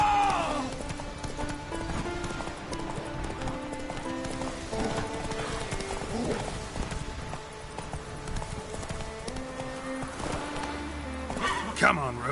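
Roach the horse gallops through The Witcher 3, hoofbeats running steadily beneath game music, with someone talking over the ride.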